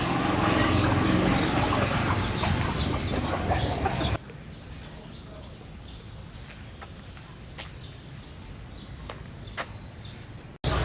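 Chickens cluck and squawk over loud outdoor street bustle in Vientiane, Laos, then the background drops quieter and scattered clucks continue at a moderate distance.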